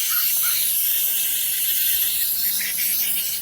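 Brake cleaner sprays hard from an aerosol can onto the oil filter screen of a KTM 690 SMC-R motorcycle, a loud, continuous hiss that holds steady for several seconds without a break.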